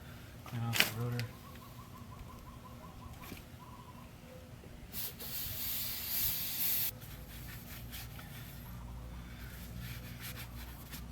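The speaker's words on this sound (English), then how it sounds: "All I'm going to do is take a little brake cleaner, clean off the rotor." Brake cleaner sprayed onto a front brake rotor of a 2006 BMW 325i: a broad hissing spray burst of a couple of seconds in the middle, with a short sharp knock near the start and a quiet workshop background.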